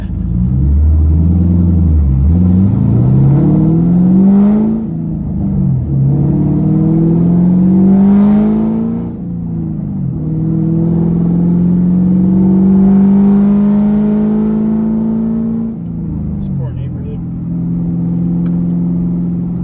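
Straight-piped 2007 Mustang GT CS with a 3-valve V8 revs and rumbles loudly close by, its tone rising and falling through several sustained pulls and drops, with no talking over it.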